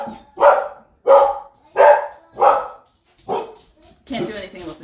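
A dog barks in a home kitchen, six loud close barks in a steady rhythm, the last one rougher and more drawn out.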